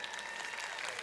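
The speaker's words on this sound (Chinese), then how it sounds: "给他一个掌声一下。" An audience applauds steadily at a corporate recognition gathering, a dense wash of many hands clapping at even loudness throughout the short stretch, with no voices over it.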